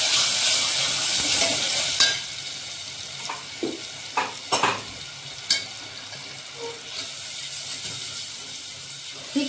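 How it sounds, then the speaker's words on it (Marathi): Ground onion and tomato paste fries in oil in a pan for misal, with a soft continuous sizzle broken by a handful of sharp scraping strokes from a stirring spoon, close by and without talk. "आता यावर आपल्याला हे वाटलेलं कांदा आणि टोमॅटोची पेस्ट टाकायची आहे।"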